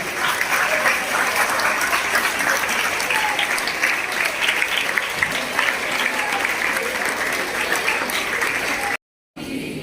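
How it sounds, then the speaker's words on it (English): A large crowd of students claps continuously, a thick, steady roar of applause that cuts out for a moment near the end. "More noise. More clapping."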